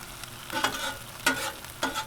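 Steak pieces stirred on a Blackstone 22-inch griddle, a steady sizzle with three scraping stirs of a spatula at regular intervals, close and fairly quiet.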